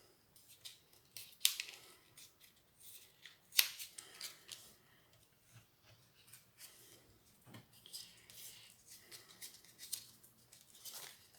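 Scissors snip through a piece of paper for an autumn-themed craft, with a run of quiet close-up cuts, two sharper snips standing out and light paper rustle between them.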